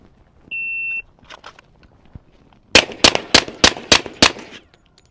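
Suppressed Kimber Rapide 1911 pistol fired outdoors: six sharp, evenly spaced shots in a quick string, preceded by a short electronic timer beep and some quieter handling noise.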